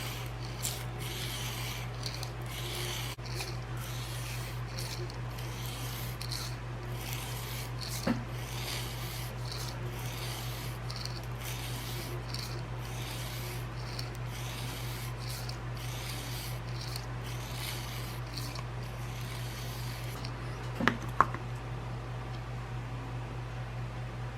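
A Havok Hoss 150 knife is drawn over a 240 grit sharpening stone, making a steady, close rasping scrape in a continuous rhythm of strokes, with a low constant hum underneath and no talking.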